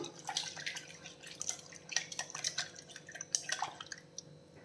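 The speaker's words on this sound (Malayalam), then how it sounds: "ഈ അരിച്ച് വെച്ച വെള്ളം തന്നെ ഞാൻ മിക്സിയുടെ ജാറിൽ ഒഴിച്ചിട്ട് ശകലം ചേർക്കുന്നേ" Steady trickle and drip of strained water being poured into a mixer-grinder jar, with scattered splashes and clinks, moderately close, no voices.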